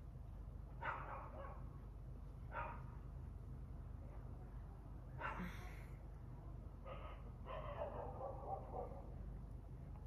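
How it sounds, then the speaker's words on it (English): Dogs bark outdoors in several short bursts spread through the stretch, fairly distant and moderate in level over steady low background hum, with a few overlapping yips near the end. "It's like the dogs are having conversations here."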